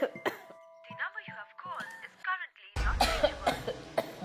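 A woman coughs in several sharp, close bursts, mixed with speech and a ringing chime, followed by a louder noisy stretch.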